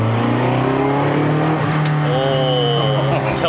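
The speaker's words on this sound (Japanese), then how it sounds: "キャブサウンド、" A Toyota AE86 fitted with FCR carburetors pulls away on a circuit, its engine note loud and close, holding steady low revs before climbing in a rising harmonic sweep toward the end.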